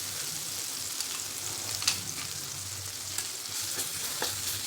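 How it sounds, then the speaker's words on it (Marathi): Ginger garlic paste fries with tomatoes in a pan for pav bhaji, making a soft, continuous sizzle with light stirring clicks, fairly quiet and with no voices. "त्यामध्ये घालायची आता आलं लसूण पेस्ट."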